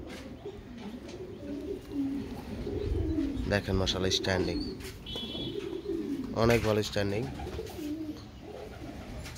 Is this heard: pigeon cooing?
yes